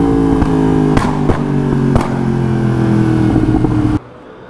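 A Yamaha MT10 motorcycle idles with a loud, steady, close exhaust drone, punctuated by several sharp pops or blips, before the sound cuts off abruptly near the end.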